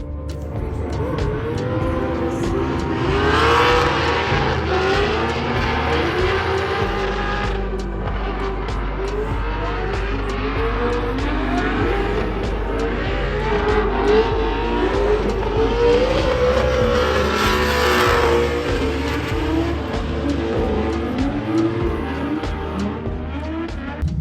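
A Formula Drift race car laps the track with a loud, continuous engine roar that climbs and falls through revs, with tire squeal and skidding running through the whole stretch.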